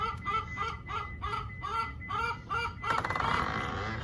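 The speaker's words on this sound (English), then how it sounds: "Them poor chickens sitting on those bricks." Chickens perched on bricks beside a flooded river give a rhythmic series of about seven short, harsh, honking calls, followed by a noisier rustling burst, all fairly faint and distant.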